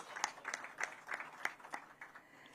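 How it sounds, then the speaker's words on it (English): Audience applause at a semiconductor plant inauguration ceremony, a quiet, distant patter of scattered claps over a couple of seconds with no voices. "One more time, ladies and gentlemen, a big round of applause"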